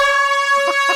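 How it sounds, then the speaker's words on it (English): An air horn blares continuously with a loud, steady tone throughout the one-second burst, with brief faint vocal sounds under it near the end. "I couldn't hear it because there was an air horn going on"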